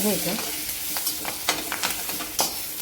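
Curry leaves sautéing and being stirred in a pan of onion, chilli and turmeric for a Maharashtrian chana masala usal, a steady sizzle with a few soft spoon scrapes, close and alone.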